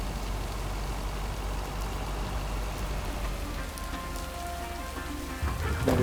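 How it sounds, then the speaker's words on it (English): Heavy rain pours down in the game Lake, a dense, steady hiss of drops on surfaces that stays constant throughout, joined near the end by a brief low rumble. "Now let's see if it will keep raining cats and dogs."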